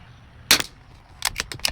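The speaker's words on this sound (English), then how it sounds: "All right, 5 more rounds with the ELEY Match out of the Savage." A Savage Mark II .22 LR rifle fires ELEY Match ammunition at a shooting range, giving one sharp, close crack, followed after a short pause by a quick cluster of snappy mechanical clicks.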